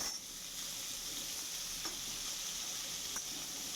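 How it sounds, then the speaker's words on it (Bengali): Red bell peppers added to hot oil and frying for a mushroom dish, giving a constant even sizzle with a couple of brief pops, heard alone without voices. "এরপর রেড বেল পেপার দিয়ে দিচ্ছে।"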